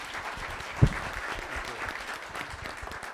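Audience applause for young people at a university conversation event, a steady wash of clapping with one sharp loud clap near the start, continuing evenly throughout.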